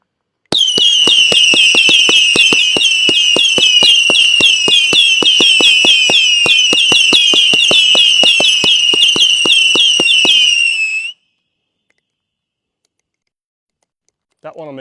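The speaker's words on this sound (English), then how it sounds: "This is the whistling monster." A "whistling monster" firework shrieks with a loud, continuous rising whistle over rapid crackling pops for about ten seconds, then cuts off abruptly into near silence before a brief new burst at the end.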